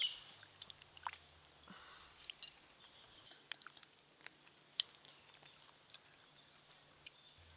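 Soft, close chewing and mouth clicks come from someone eating a village-style fish curry with gravy. The small smacks are intermittent and quiet over a hushed room, with no talking.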